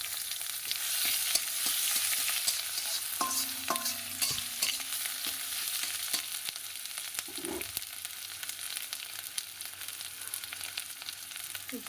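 Spices, tomato, bay leaf and ginger paste fry in hot oil, a continuous bright sizzle with occasional stirring scrapes and clinks from a utensil in the pan, close and steady throughout.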